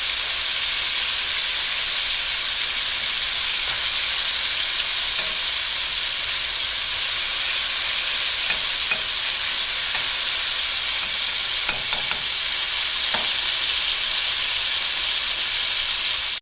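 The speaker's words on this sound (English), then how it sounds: "We're going to flip this over and let it continue to brown on both sides." Steak browns in a hot pan, a loud, steady hiss and sizzle running unbroken throughout, with a few faint clicks of the meat being turned.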